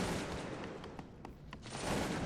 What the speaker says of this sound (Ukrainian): Блокгаус веде вогонь.